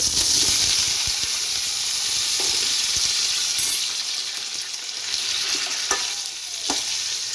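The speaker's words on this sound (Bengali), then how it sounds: "আমি প্রথমে এই এঁচোড়গুলো তুলে রাখা এগুলো একটু আগে ভেজে নেব।" Young jackfruit pieces fry in a pan, a close, steady crackling sizzle with occasional sharp spatula clacks and scrapes, easing slightly in loudness midway, with no voices.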